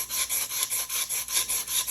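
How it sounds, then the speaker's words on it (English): Sanding a foam core bottle mock-up by hand makes rhythmic, close rasping strokes, roughly four per second in an even back-and-forth, with no talk. "So I'm just going to start sanding right in the middle."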